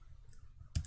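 A single sharp mouse click near the end of a quiet stretch, as a part is selected in FreeCAD 3D modelling software on a computer, heard alone against faint background hiss.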